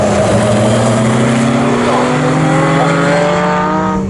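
Pre-1963 racing cars roar past at Snetterton, loud engines at high revs holding steady pitch in a dense, close, continuous blare.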